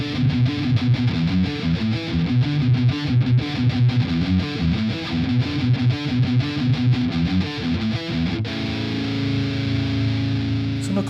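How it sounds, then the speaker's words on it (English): Distorted tone from a Fesley FLP350 budget electric guitar, a driving rhythmic riff of palm-muted chugs and chords for metal and rock, closing on a sustained ringing chord. "and they sound good dirty."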